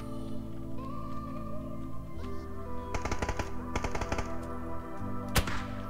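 Gunfire in the battle-royale game PUBG: rapid clustered bursts of shots crackle through the middle of the stretch, followed later by a single sharp report, all set over a steady droning game backdrop.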